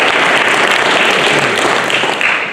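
An audience claps loudly at a literary awards ceremony, a dense, even burst of applause with no pause.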